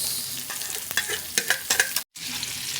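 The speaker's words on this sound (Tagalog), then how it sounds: "Ilalagay na natin yung ating luya. Mainit na yung ating mantika. Bawang sibuyas" Ginger, garlic and onion sauté in hot oil in a pan for chicken tinola, giving a close, steady sizzle with a few stirring clatters and a brief gap near the end.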